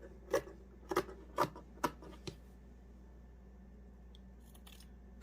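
Scissors cut fabric trim for a no-sew nativity figure, five crisp snips in a steady rhythm heard close up. A pause of near silence follows, then a faint rustle at the end.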